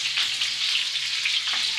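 Hot oil spatters and sizzles steadily while momos fry, a close, loud, continuous crackling hiss with small pops.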